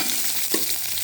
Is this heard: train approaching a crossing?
no